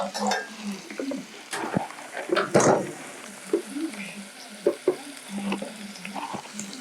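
Liver sizzles in a pan while a utensil stirs and scrapes it, giving irregular clinks and rustling bursts over a steady frying hiss, fairly close.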